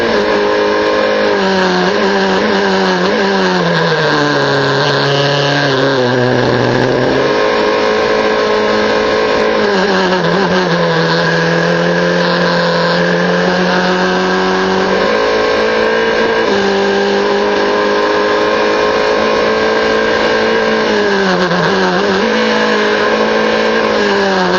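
GB4 race cars accelerate away from pit lane, a loud, continuous engine roar with rising and falling pitch as the field pulls away and gears change, sustained throughout without talk.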